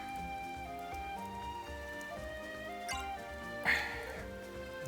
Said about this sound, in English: It's raining out here too.